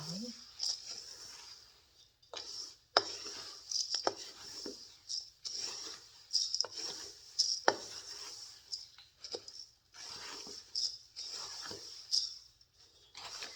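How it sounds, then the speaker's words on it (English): Dry granola ingredients being stirred together in a bowl, irregular rustling scrapes and soft knocks of a utensil, close and moderately quiet with brief pauses. "I'm going to mix these together"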